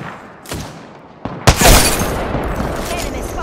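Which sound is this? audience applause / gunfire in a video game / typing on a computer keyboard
gunfire in a video game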